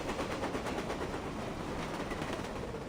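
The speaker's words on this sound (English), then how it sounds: "And why is the stupid train never on time?" A train runs on rails in the video game Reverse: 1999, a continuous, even rumble with a faint rhythmic rattle that holds steady for the whole stretch, with no voices.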